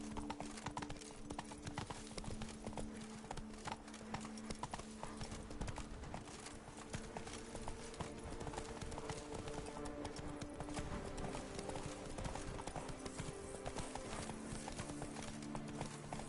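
Roach, the horse from The Witcher video game, gallops with steady, rapid clip-clopping hooves that carry on continuously over a layered game soundtrack and ambient bed, loud and close throughout.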